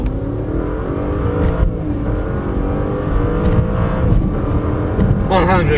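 An Audi A8 with a 4.2-litre V8 accelerates hard from 0 to 200 km/h, its loud engine note climbing steadily in pitch and briefly dropping at gear changes, heard from inside the car.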